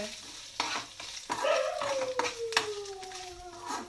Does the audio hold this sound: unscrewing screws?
no